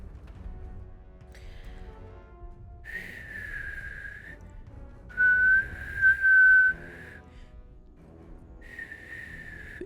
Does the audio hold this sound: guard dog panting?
no